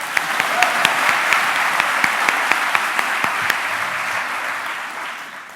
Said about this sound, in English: I'll go and clap him